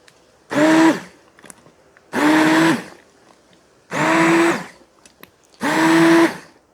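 A blender purees cooked apples for apple jam in four separate bursts of about half a second each, a loud, close whirring motor whine with short silent gaps between them.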